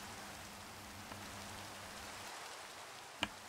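Rain in the Minecraft video game on the Gilded SMP server: a soft, steady hiss of falling rain, faint and even, with one brief tick near the end.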